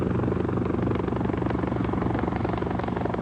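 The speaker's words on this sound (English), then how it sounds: "Jaegers utilize helicopters as ideal insertion aircrafts." A military helicopter used by Norwegian special forces for insertion flies steadily overhead, its rotor thump and engine drone loud and continuous throughout with no pauses.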